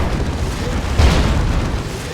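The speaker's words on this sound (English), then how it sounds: "G-Stealers take a battle cannon shot and don't like it" A battle cannon shot lands on Genestealer units in the Dawn of War 2 strategy game, giving a single deep booming explosion midway through a dense bed of battle noise.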